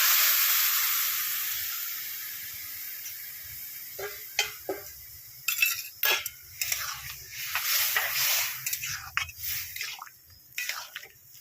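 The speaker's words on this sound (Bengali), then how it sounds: "চিংড়ি মাছগুলো আস্তে আস্তে ভেজে নেব। চিংড়ি মাছের মধ্যে শাকটা দিই।" Prawns frying with ash gourd greens in a pan, a soft hiss at first, then scattered stirring scrapes and crackles, close and moderately quiet.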